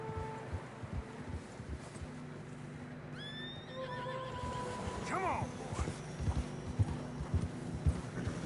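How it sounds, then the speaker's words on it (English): Horses in Red Dead Redemption 2 trudge through fresh snow on a narrow trail, hooves clip-clopping steadily while one horse lets out a clear neigh midway; someone speaks briefly over the hoofbeats. "Horses are getting tired."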